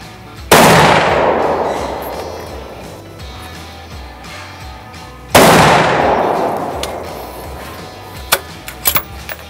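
Two loud, sharp shots ring out several seconds apart at a dynamic shooting practice, each trailing into a long echoing decay, followed by a few fainter pops near the end.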